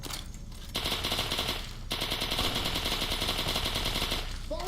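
A Sterling submachine gun in Fallout: New Vegas fires rapid automatic bursts, loud and close, in two long strings of shots with a short pause between them.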